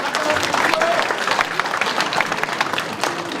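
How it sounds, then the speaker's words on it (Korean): Lively applause from a crowd at a New Year ceremony, dense clapping throughout with voices and cheering mixed in. "박수 크게 쳐주세요."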